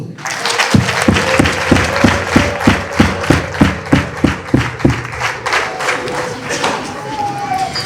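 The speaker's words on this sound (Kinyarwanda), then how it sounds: "tuyihe amashyi n'impundu" Congregation at a Catholic Mass breaks into rhythmic unison clapping with ululation, steady beats about twice a second for several seconds before fading into looser applause and crowd noise, loud and full-room.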